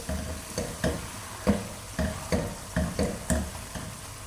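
Mutton and masala frying in a pot for Pakistani-style nihari, stirred in a steady rhythm of about a dozen scraping strokes over a soft sizzle, close and fairly quiet.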